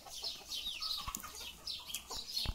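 Purebred chickens, including Jersey Giants, clucking in their pen: soft, repeated clucks and squawks from several hens at close to moderate distance, with occasional light thumps and rustling, with no talk.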